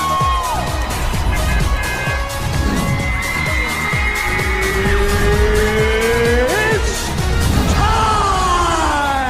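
Tires squeal and a car engine whines in a video game as a character is run over, with sliding pitched screeches and engine tones over busy game noise and a crowd-like background.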